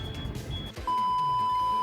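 A steady electronic beep tone starts partway through and holds continuously, following some muffled rumbling noise.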